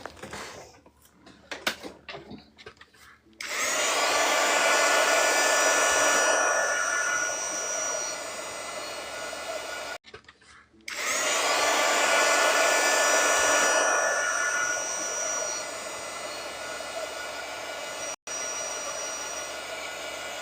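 A handheld hair dryer blows on a watercolor painting in two long, loud, steady roaring bursts, each starting abruptly after brief handling noises and cutting off with a short pause between them.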